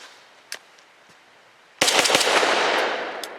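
A Grand Power Stribog fires 100 grain frangible ammunition, a loud rapid burst of close gunshots starting after a quiet click and trailing into rumbling echo.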